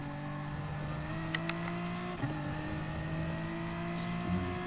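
Car engine sound from the Gran Turismo racing game, a steady droning hum with a held pitch and slight rev shifts, moderately loud and continuous with no voices.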